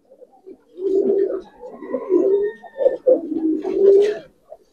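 Giribaz pigeons coo in a steady run of low, rolling calls, several overlapping murmurs close by that swell and fade with short pauses between them, with no talking.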